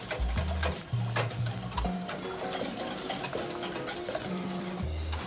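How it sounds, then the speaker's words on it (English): Chocolate Guinness cake mixture whisked in a pot on the stove, with fast rhythmic whisk scraping and clattering against metal, close and fairly loud, accompanied by a low buzzing hum and no talking. "And now I'm just going to whisk it all together."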